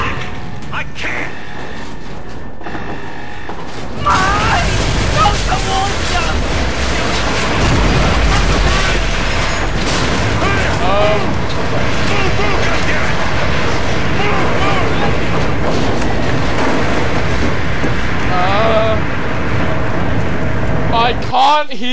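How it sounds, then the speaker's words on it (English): Dead Space 3 gameplay blasts out loud booming explosions and grinding, clanking mechanical crashes that fill the soundtrack for many seconds after a quiet start. "I can't hear you over the explosions."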